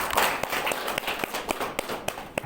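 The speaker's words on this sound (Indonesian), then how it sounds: "Tepuk tangan buat Natural." Audience at a business gathering clapping, a brisk patter of sharp, separate claps from a modest group, fairly close and without cheering.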